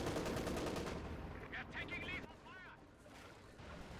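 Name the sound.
machine gun fire in Company of Heroes 2 video game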